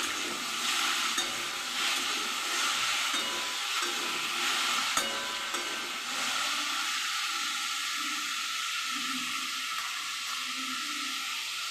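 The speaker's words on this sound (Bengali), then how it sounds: "এবার দিয়ে দেবো অল্প একটু নুন ভালো করে নেড়ে দেবো" Pumpkin is stirred in a hot frying pan after salt goes in, a sizzle under repeated scraping and stirring strokes that starts louder and settles into a steadier hiss with occasional clinks.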